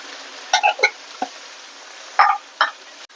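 Onion and tomato with salt and turmeric sautéing in a pan, heard as a handful of short scraping stirs and soft sizzling clicks spaced irregularly over a quiet background.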